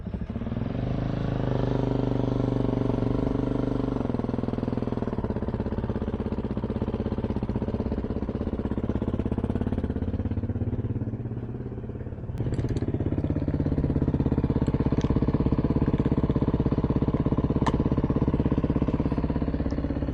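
A dual sport motorcycle on knobby tyres runs steadily and loudly close by, its engine note dipping briefly then rising again as it revs on.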